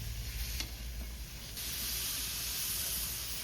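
Chopped tomatoes sizzle in a hot pan with turmeric during home cooking, a steady broadband frying hiss that swells louder partway through, with no talking.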